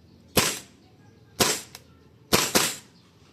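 A Tokyo Marui CQBR gas blowback airsoft rifle fires on semi-auto, four sharp cracking shots with the bolt's snap, spaced unevenly, the last two in quick succession, close and loud against quiet.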